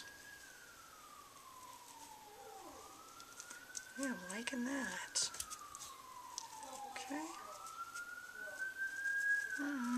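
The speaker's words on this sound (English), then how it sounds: "Here's a siren going by." A siren sweeps up and down in long wailing cycles as it passes, with a person speaking briefly over it.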